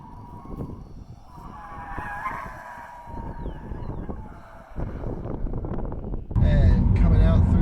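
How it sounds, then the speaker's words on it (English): Eco-friendly tires on an electric MINI Cooper SE squeal and scrub through corners on a race track, a wavering high-pitched skid under a man's in-car commentary, ending with louder roaring wind and road noise. "The tires make a lot of noise, but there's grip left over."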